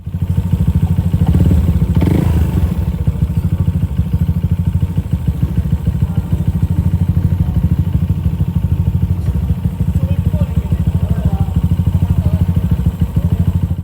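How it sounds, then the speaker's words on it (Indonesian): A Honda ADV 150 scooter engine runs steadily at idle, a loud, close, even mechanical drone with a light clatter throughout and no voices. "Setelah dicek sound, ternyata suara mesinnya kemungkinan besar aman"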